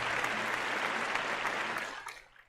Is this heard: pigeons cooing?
no